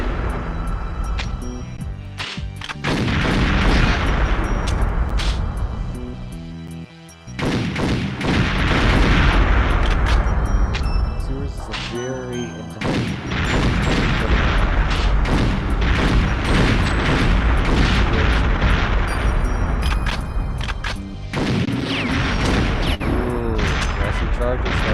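Rocket explosions and heavy weapon fire in Perfect Dark fill the space, with loud repeated booms and blasts rolling one after another. A commentator's voice runs underneath throughout.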